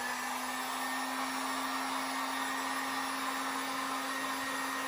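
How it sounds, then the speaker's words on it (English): A steady, constant whine and rushing air of a heat gun running without a break at moderate volume, heating a decal on a 2021 Chevy Silverado Trail Boss. "We're just gonna heat this up with a heat gun or a hair dryer"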